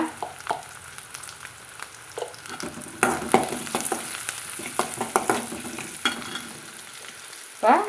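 Vegetables with a little turmeric powder sautéing in a pan for a Tamil-style poriyal, a steady sizzle broken by repeated scraping stir strokes, close and moderately loud, with no talk.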